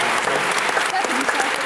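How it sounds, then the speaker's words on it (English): A festival audience at the Edinburgh TV Festival claps steadily and densely throughout, a continuous wash of applause at full strength from start to finish. "Big round of applause for the Islanders"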